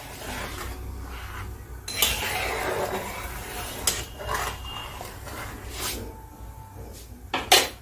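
A lid clatters onto a metal cooking pot of thin Bengali shing fish curry with green banana, a few sharp clinks and knocks among quieter kitchen clatter.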